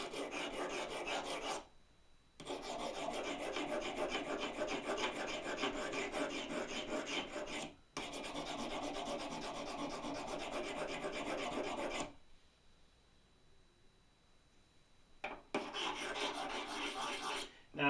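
Long rhythmic rasping strokes of a file sharpening metal pottery trim tools, close and steady in several extended runs separated by short pauses and one longer quiet gap.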